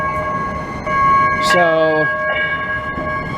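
A train horn blares from a passing train, a sustained harmonic blast over a low rolling rumble, moderately close, with someone speaking briefly over the background.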